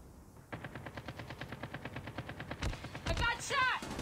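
Rapid automatic gunfire in COD Mobile on the King map during a duel: a steady, fast train of evenly spaced shots, moderately loud, followed by sharper close impacts and brief vocal sounds near the end.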